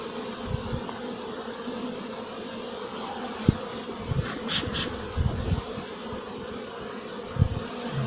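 Honey bees buzz densely and continuously around an open hive frame of pollen, a close, steady swarm drone with a few sharp knocks and brief higher whines.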